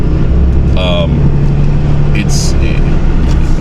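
Road traffic rushes steadily past a roadside car park, a continuous loud rumble, with brief voices and short sharp sounds breaking in over it.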